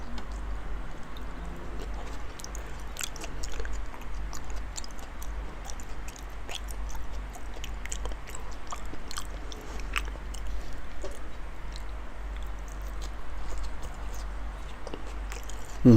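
Someone chews a large mouthful of raw salmon with wasabi right at the microphone, with continuous wet squishy mastication, scattered sharp smacks and soft bites over a low steady hum, without speech.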